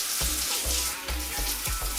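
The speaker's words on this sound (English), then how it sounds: "Dual head mode again." WaterPik dual shower head running in dual head mode, giving a steady close spray of water with several soft thumping pulses as the stream shifts, and no talking.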